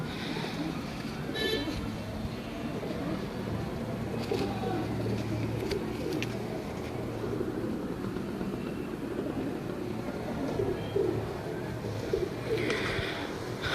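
Teddy pigeons cooing on a rooftop, soft low coos repeating under a constant outdoor hum, with a few faint brief chirps and clicks scattered throughout.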